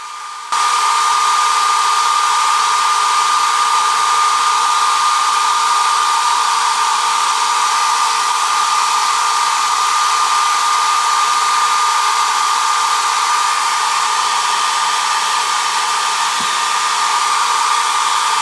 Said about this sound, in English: I'm gonna go in with my blow dryer and press it all down.